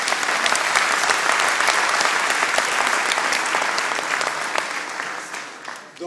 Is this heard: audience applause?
yes